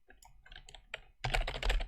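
Computer keyboard typing, a handful of separate key taps that build into a quick, dense, louder flurry of clacks near the end, close and alone.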